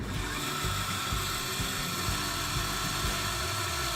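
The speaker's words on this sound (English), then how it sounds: "Now we're going to go ahead and drill this out to an appropriate bore hole" A power drill whines steadily throughout while boring a switch hole in an Airstream trailer, a continuous high buzz, close and fairly loud with no speech.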